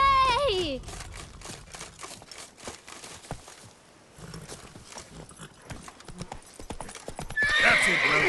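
A horse's hooves clip-clop steadily on a road in The Witcher 3 video game, with a whinny at the start, while voices talk over the riding.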